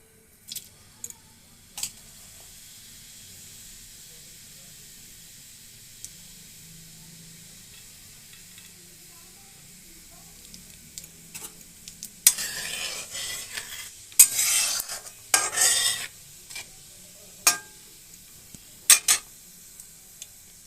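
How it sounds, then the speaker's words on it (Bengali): Cumin seeds tempering in hot oil for a light, low-spice chicken curry: a quiet stretch gives way to bursts of crackling sizzle and stirring in the second half, with brief scraping clinks. "তেলটা গরম হয়ে গেছে। তেলের মধ্যে দিয়ে দেবো ফোড়নে একটু জিরে"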